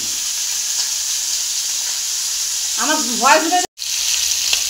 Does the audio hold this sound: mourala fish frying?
yes